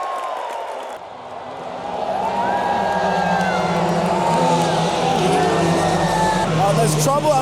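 IndyCar race cars rolling out for the Indy 500 pace lap, a broad engine drone rising after a brief lull and holding steady, with crowd noise and talk in the background.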